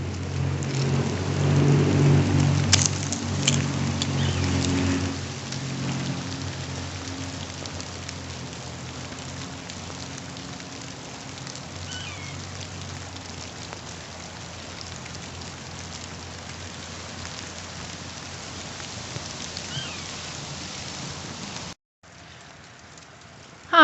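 Steady rain patters on ice-glazed backyard trees and soaked ground after an ice storm, a constant close hiss that stays even throughout before cutting out near the end.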